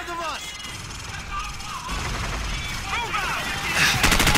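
Gunfire and grenade blasts in the Call of Duty 4: Modern Warfare video game, a chaotic run of sharp shots and bursts under a player's voice talking.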